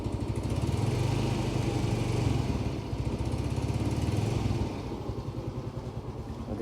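A Yamaha Mio M3 scooter engine runs close by, a steady putter that rises in revs and then settles back to a quieter idle.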